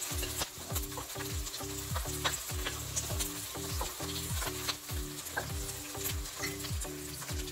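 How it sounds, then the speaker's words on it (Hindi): Onions fry in a pan for dhaba-style shahi paneer: a steady, close sizzle runs throughout, cut by repeated rhythmic scrapes of a spoon stirring against the pan. No one speaks. "प्याज भुनने शुरू हो गए,"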